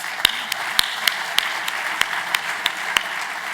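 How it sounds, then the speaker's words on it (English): Sparse applause for veteran LULAC councils at a legislative conference and awards gala, heard as a thin scattering of individual claps spaced out over steady room hiss, fairly distant. "Let's give them all a round of applause"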